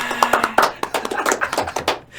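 Brief, scattered hand claps in a podcast studio, a few sharp close taps in an uneven rhythm rather than a full round of applause.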